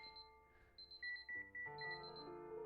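Alarms going off in Superliminal: a mix of high, fast-pulsing beeps and lower repeating electronic tones overlap in a busy, insistent pattern at moderate loudness.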